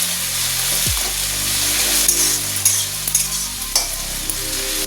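Fish curry with onion, tomato and green chilli simmers and sizzles in a pan, a dense steady frying hiss with a few scraping stirs and light clinks, close and loud.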